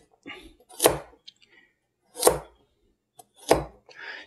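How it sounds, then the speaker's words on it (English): Knife chopping carrots with a rotate-and-cut round cut on a board: three sharp, separate chops about a second and a half apart, close and clear, with soft handling noise between. "Rotate and cut, rotate and cut, and as you get, we'll go through and do a little faster"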